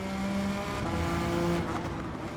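A Suzuki Escudo race car in Gran Turismo 7 with its engine fully boosted, giving a steady high-pitched whine at sustained revs, loud and close, with a brief tyre squeal.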